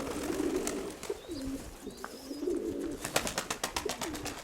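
Pigeons cooing close by, a speckled female among them, in repeated low throaty coos over soft background chirps, ending in a quick run of sharp tapping or wing-flap bursts.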